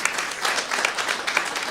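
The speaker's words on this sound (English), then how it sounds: "let's get one more round of applause" Audience applause at a jazz history talk on Miles Davis's roots and early influences, a brief burst of dense, steady clapping from a sizeable crowd in a hall.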